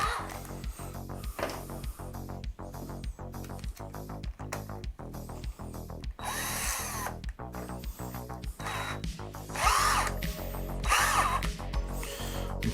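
A power drill bores into a wooden workbench under construction, giving a close, loud whine with rhythmic pulsing bursts and brief pauses, then higher-pitched whirring stretches near the end.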